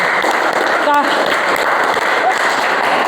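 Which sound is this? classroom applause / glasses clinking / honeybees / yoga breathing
classroom applause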